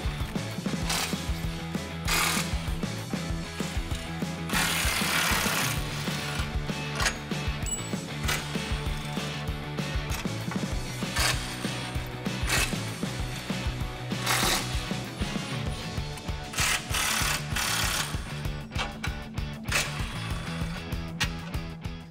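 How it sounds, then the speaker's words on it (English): Ratchet wrench with a 15mm socket working loose the front tow hooks on a 2014-2015 Chevrolet Silverado 1500, a steady run of rapid close clicking bursts that carries on loudly for the whole stretch, with no talking. "So we're going to go ahead and remove those tow hooks now"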